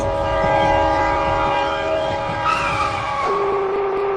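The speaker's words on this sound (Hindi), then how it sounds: "तुम सब थोड़ा थोड़ा पीछे हो जाओ, ट्रेन यहीं रुकेगी।" A cartoon train pulls in with a loud, steady horn-like whistle of layered tones that slides down in pitch near the end as it comes to a stop, with rumbling rail noise underneath.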